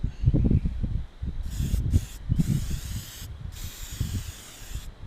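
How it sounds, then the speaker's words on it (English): Aerosol lubricant sprays in short hissing bursts onto the motor shaft of a Minn Kota Powerdrive V2 trolling motor, close and fairly loud, with low handling noises and clunks of the metal parts in between. "You can spray in that collar, but I just load up the shaft here"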